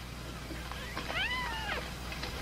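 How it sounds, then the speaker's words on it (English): A single faint, rising-and-falling kitten meow sounds once over a steady background hum, with no voices. "Lassie found a litter of kittens."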